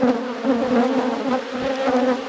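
Dense, steady buzzing of many honeybees around a frame lifted from a queenless hive, a continuous close drone with overlapping wingbeat tones throughout, no voices.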